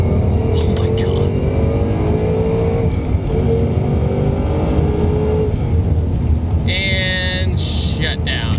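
A modified 670 hp base Ford Mustang GT accelerates hard in third gear, its engine roaring loud and close and climbing steadily in pitch, with a voice exclaiming over it.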